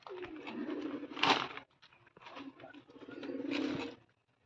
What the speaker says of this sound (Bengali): দেখো মই দিয়ে পায়রার খোপে ধান দিয়েছি।